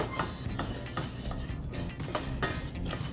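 Rice browns in extra virgin olive oil in a pan with a dense, steady sizzle, broken by the repeated clinks and scrapes of stirring. No one speaks.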